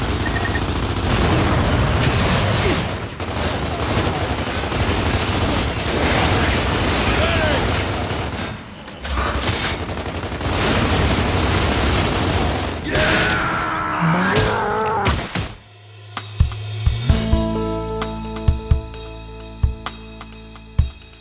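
Gunfire and explosions from the Gears of War shooter game, dense and loud for about fifteen seconds, then a sharp cut to scattered booming thuds and sparse mechanical hits.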